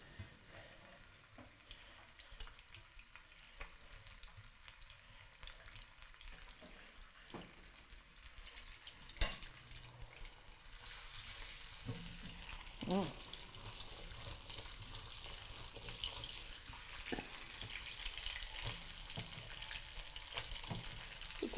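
Carrots sizzle in a Breville Hot Wok BEW600XL electric wok. A soft frying hiss grows steadily louder after about ten seconds, with occasional stirring clinks. Nobody speaks.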